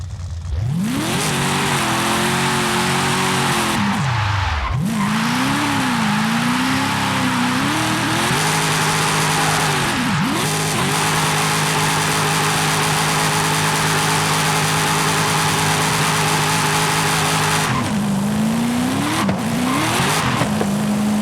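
Dodge Demon 170 accelerating hard at full throttle, a loud roaring engine climbing in pitch through repeated gear shifts, with tire squeal and brief drops between pulls.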